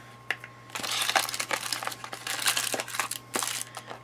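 Paper tips for an eyeshadow palette crinkle and rustle as they are lifted out of a makeup storage drawer, close and continuous with irregular crisp crackles and no talking.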